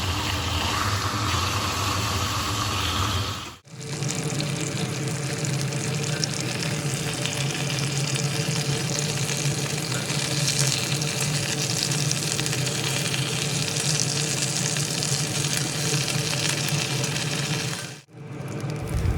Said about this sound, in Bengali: এই তেলের মধ্যে মাছের মাথাও একইভাবে ভেজে নেব